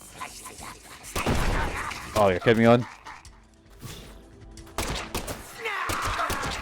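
Explosion in the video game Deadly Premonition 2: a heavy booming blast with rumbling aftermath and some sharp crackling, while someone talks over the game sound.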